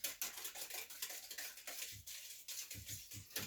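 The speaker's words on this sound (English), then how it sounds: "get my little whisk here and give it a little mix" A small whisk stirs bread ingredients in a bowl, giving a quiet, irregular run of light clinks and scrapes against the bowl, close but faint, with no voices.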